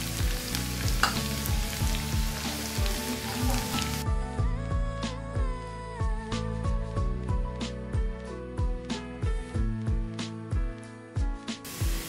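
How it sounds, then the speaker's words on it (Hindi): Finely chopped garlic sizzles and crackles steadily in hot oil for a moong dal curry, with a dense, continuous frying hiss and frequent small pops and stirring scrapes, close and fairly loud. "अब हम इसमें लहसुन डाल देंगे, बारीक बारीक कटा हुआ लहसुन"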